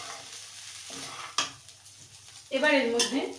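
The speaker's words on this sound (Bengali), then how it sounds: "ভালো করে নাড়বো, সবগুলো যেন ভালো করে ভাজা হয়।" Spices and salt are stir-fried in a pan for soybean pulao: a sizzle with a few metal spatula knocks and scrapes against the pan. A voice speaks briefly near the end.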